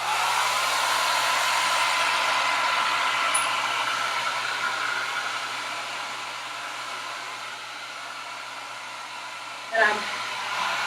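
A hair dryer running on high heat at low speed gives a continuous, even airy whoosh close by, with a brief bump of handling noise near the end.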